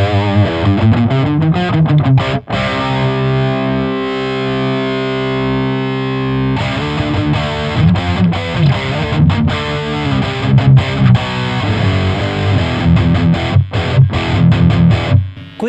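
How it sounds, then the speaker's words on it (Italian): An electric guitar pushed through a Synergy Diezel VH4 preamp module gives dense, high-gain metal distortion. Loud chugging riffs are broken by a held chord, then fast palm-muted chugging resumes, with no talking. "questo preamp può suonare solamente da un crunch molto spinto fino a estremo metal"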